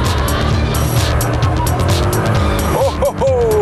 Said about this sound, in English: It's only when you unleash the full 700 horsepower that the rear begins to step out.